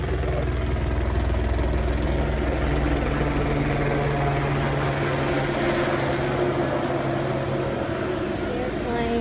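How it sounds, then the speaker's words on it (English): A police plane passes directly overhead above a house, its engine a loud, continuous droning rumble that stays strong and steady throughout. "They're flying a police plane directly over my house"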